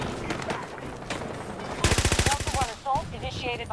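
An AM40 assault rifle fires in Battlefield 2042 with one rapid automatic burst of sharp, close cracks lasting under a second. A brief voice is heard nearby.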